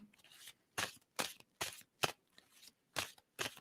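Tarot cards are shuffled close at hand in about eight quick, crisp riffling bursts with short gaps between them.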